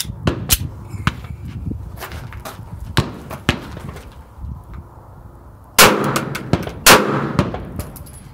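Several Diamondback DB9 pistol shots fired on a test range, sharp broadband cracks spaced irregularly, with two louder, closer blasts near the end over steady background noise.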